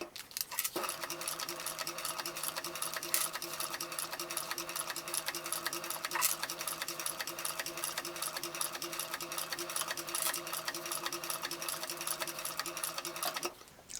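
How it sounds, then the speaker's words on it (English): Sewing machine top stitching backpack fabric at a stitch length of 4, running in one steady rapid mechanical rhythm for about thirteen seconds before stopping abruptly, close and clear with no talking. "Using a top stitch length of 4, I am going to do this stitch."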